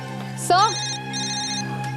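A mobile phone rings with a bright synthetic tune: a short rising chime, then sustained melodic tones, loud and close over a low steady hum, with no voice audible.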